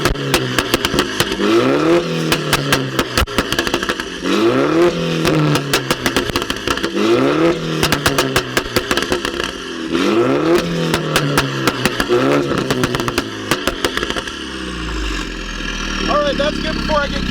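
A Mini with a Stage 2 tune and a SuperSprint midpipe revs hard in repeated bursts, shooting flames with sharp pops and crackles from the exhaust, loud and close, with a voice talking over it.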